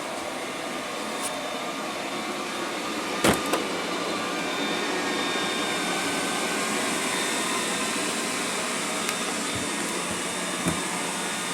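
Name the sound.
Liectroux B6009 robot vacuum cleaner running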